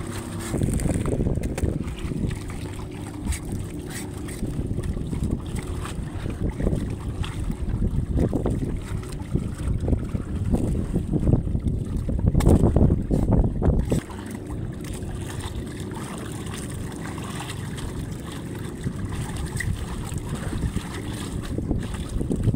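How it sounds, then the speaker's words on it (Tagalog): A boat arrives on the water, its low engine rumble and wind buffeting held steady for most of the stretch and swelling louder midway before settling back, with no talk over it. "may pagdating na ang bangka"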